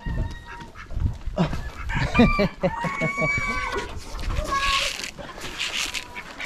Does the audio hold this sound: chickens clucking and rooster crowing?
yes